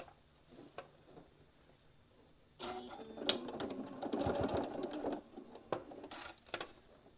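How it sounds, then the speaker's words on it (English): A sewing machine stitches a quarter-inch seam across fabric for a mini iron travel case, a soft quiet burst of stitching in the second half amid light handling clicks and taps. "we're going to stitch 1/4 of an inch all the way across right here"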